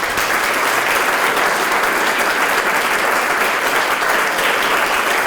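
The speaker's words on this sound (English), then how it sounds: "I think we should give Dr. Ann Lundberg one more round of applause." An audience gives Dr. Ann Lundberg a round of applause after her performance. Dense, loud, continuous clapping lasts about five seconds with no voices over it.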